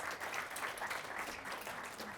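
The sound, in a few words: audience applause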